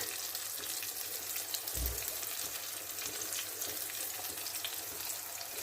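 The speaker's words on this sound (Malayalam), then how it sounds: "അത് നമുക്ക് ഇട്ട് കൊടുത്തിട്ട് അതിനെ ഒന്ന് ഇതിൻ്റെ എണ്ണയിൽ ഒന്ന് തെളിയിച്ചെടുക്കണം." A finely ground masala paste frying in oil for a black pomfret curry makes a dense, steady sizzle and crackle up close, with one soft low thump early on.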